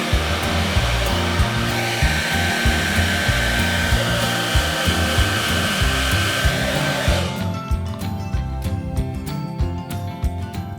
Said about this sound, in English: use the cool shot, which is right at the trigger point of the dryer, to cool this section down